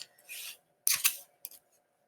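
A pencil drawing grid lines by hand on paper: three short scratchy strokes, close and crisp, separated by brief silences, with no talk.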